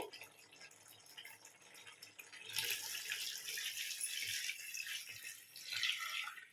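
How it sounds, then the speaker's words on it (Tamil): Water splashes and trickles steadily into a cooking pot while making chicken biryani, a moderate pouring sound close by with a few soft knocks. "அதனால தான் நான் கம்மியாக ஊற்றுறேங்க தண்ணி."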